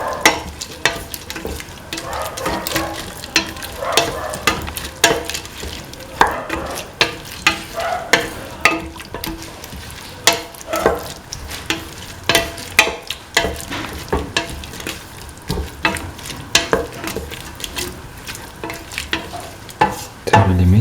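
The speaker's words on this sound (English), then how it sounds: "Keep on sauteing. Saute and mix the lentil." Lentils sauteed and stirred in a pan for a lentil, bell pepper and coconut milk rice dish, with a steady sizzle broken by repeated clattering scrapes of the spoon against the pan.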